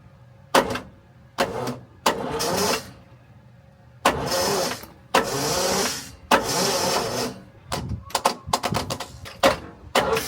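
A Massey Ferguson MF 1200 tractor engine cranks in a series of short, uneven bursts of starter churning with brief gaps between them. The sound is fairly close and loud and does not catch and run.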